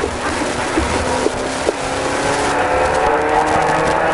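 An Opel Corsa A rally car drives hard through a special stage, its engine a continuous loud drone with a few short knocks and bumps over the first two seconds.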